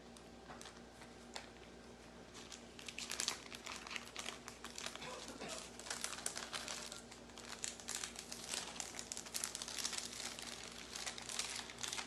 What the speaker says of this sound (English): to peel off the parchment paper